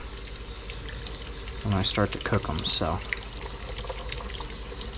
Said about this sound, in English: wash the mushrooms off because they absorb some water